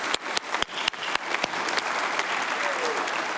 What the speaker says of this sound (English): can I just take the liberty of asking everyone to give them a big round of applause